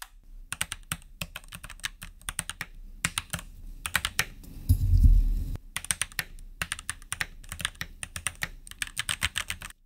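Fast, steady clacking of typing on a modded Keychron C1 mechanical keyboard, close up, with a short pause and a thump partway through, then more keystrokes.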